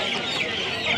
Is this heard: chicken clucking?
yes